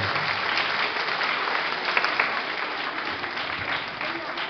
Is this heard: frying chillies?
no